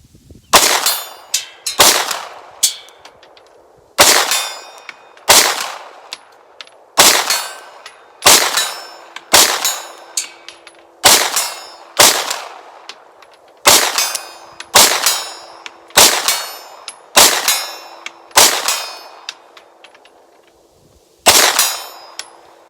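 Ruger RXM pistol firing at steel targets 50 yards out, loud sharp shots each followed by a ringing metallic clang, about fourteen spaced evenly over twenty seconds, with a longer pause before the last one.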